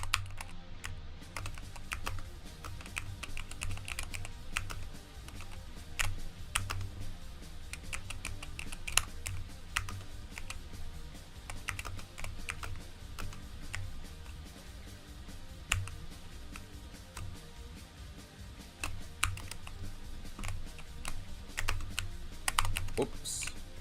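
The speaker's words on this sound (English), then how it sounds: "My mic's like next to my keyboard." Loud, close computer keyboard typing with rapid, uneven bursts of clicking keys running almost continuously, picked up by a microphone placed right beside the keyboard during a gaming stream.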